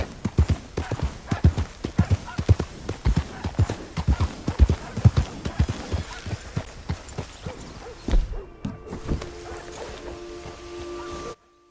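A horse in a western free-roam game clip-clops steadily, hooves thudding in a close, regular rhythm for several seconds before slowing and stopping, with some open outdoor ambience.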